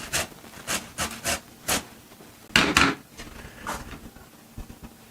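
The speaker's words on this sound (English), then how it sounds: "Now I'll grate the tomatoes." Fresh tomatoes rubbed against a kitchen grater for soup, a series of short rasping strokes in an uneven rhythm, close and moderately loud, with one longer, stronger scrape partway through.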